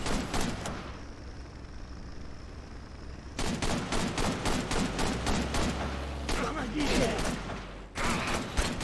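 Gunfire in the video game Beyond Enemy Lines 2, with rapid automatic bursts in repeated clusters. A quieter gap comes first, and the bursts are loud and fairly close.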